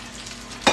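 Potatoes or salmon fry in a pan with a soft, steady sizzling hiss, then a louder burst of sizzle near the end as the food is stirred.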